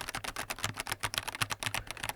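Typing on an LTC Nimbleback NB-1041 Pro mechanical keyboard running on a 2.4 GHz wireless dongle, a quick irregular run of sharp close keystrokes with no talking.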